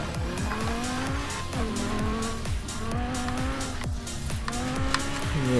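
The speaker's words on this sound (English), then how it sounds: "just off-roading through a forest in a Lamborghini" A Lamborghini off-roading through a forest in Forza Horizon 4, its engine revving up and down repeatedly through gear changes, loud and close, with tire noise underneath.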